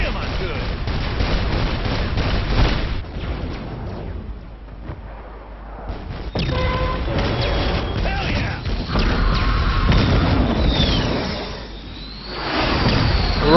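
Saints Row 4 gameplay with bursts of gunfire and explosion-like crashes throughout, loud and busy, easing briefly in the middle before the shooting and clatter pick up again, with some voices under it.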